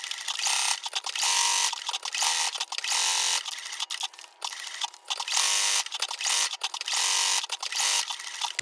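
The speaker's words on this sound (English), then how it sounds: "I can just go ahead and leave it in place and sew right over it" A sewing machine stitches an appliqué quilt block in rapid mechanical runs, a close whirring rattle in bursts of a second or so with brief pauses between, no talking.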